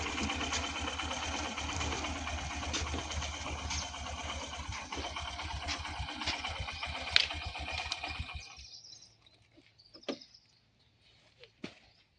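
A motorbike engine idles with a steady, buzzing rumble for several seconds, then cuts off, leaving near quiet with a few faint clicks and thumps.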